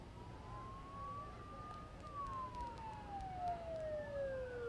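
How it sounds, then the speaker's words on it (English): A wailing siren from the video game Persona 4 Golden rises and falls in long sweeping tones over a steady low rumble, sounding moderately distant with no talking. "Don't those sirens sound really close?"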